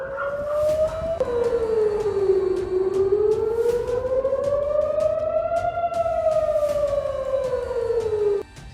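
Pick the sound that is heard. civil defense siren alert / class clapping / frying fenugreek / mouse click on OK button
civil defense siren alert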